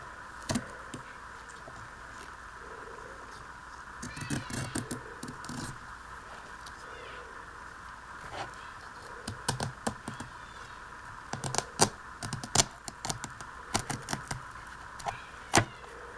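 Old book pages being cut with the tip of a blade for a junk journal, giving quiet scratchy scraping strokes that come in scattered short bursts, busier toward the end, with no talking.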